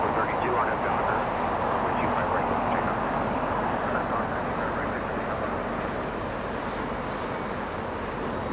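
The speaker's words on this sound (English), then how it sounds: "Delta, that's an A321 landing in the north" A Delta Airbus A321 landing at Los Angeles International Airport, with a continuous distant jet rumble and roar under a person talking.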